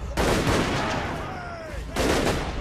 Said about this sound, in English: So the Empire's fielding a lot of artillery in this battle